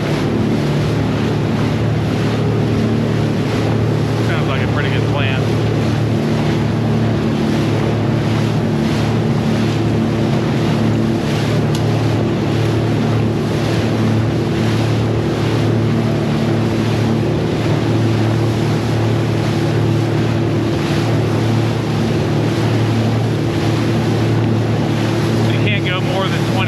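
An outboard motor on a small fishing boat runs steadily on open water, a constant droning hum with wind buffeting the microphone, while a person talks briefly over it.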